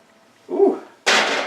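An oven door creaks open in a home kitchen, a single creaky groan of a few tenths of a second, followed by a broader rush of noise as the door swings wide and baking pans are slid inside.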